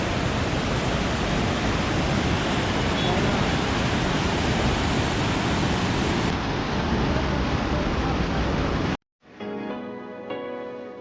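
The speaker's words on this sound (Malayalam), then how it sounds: "അടിപൊളി വെള്ളച്ചാട്ടം" Waterfall beside a bridge at Kallar near Munnar, a loud, broad, steady roar of falling water filling the scene, then abruptly cut off near the end, followed by quieter background.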